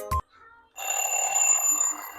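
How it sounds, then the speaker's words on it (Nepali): A cute kawaii alarm clock for a study table, which also vibrates, gives a short sharp blip, then after a brief pause rings steadily and brightly for over a second, close and clear. "यो बेल बज्छ भनेर एन्ड भाइब्रेट पनि हुन्छ"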